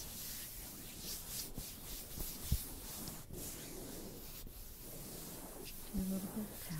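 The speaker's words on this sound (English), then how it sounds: "Using the entire palm of my hand in contact with the back. Just smoothing everything out." A palm rubbing and smoothing over a person's back during a massage, a close, soft, continuous swishing friction with slight swells and faint small taps.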